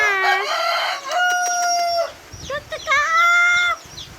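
Native chickens and a rooster: a loud, close crow with a sustained harmonic call, then rapid clucks and squawks from the flock, a second drawn-out call following.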